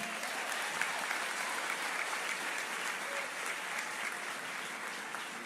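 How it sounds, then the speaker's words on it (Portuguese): A church congregation applauds during a Sunday worship service, a steady, dense wash of many hands clapping together that holds evenly throughout without pause. "Você pode aplaudir ao Senhor?"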